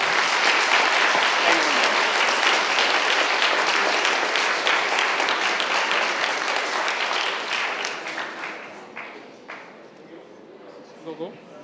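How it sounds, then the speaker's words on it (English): Audience clapping at a game development workshop, a dense burst of applause that holds steady for several seconds, then thins out and fades, leaving scattered claps and a few voices talking. "first applause"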